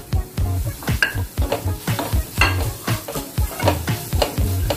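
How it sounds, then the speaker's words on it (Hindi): Paneer strips being stirred into a spice mixture, a rhythmic series of close scraping, thudding strokes roughly every half second over a low sizzle, no speech. "ये मिक्सचर हम लोग अच्छे से मिक्स करेंगे।"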